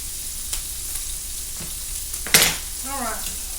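Lean sausage fries in oil in a pan, giving a steady crackling sizzle up close, with one sharp clatter midway and a voice briefly speaking near the end.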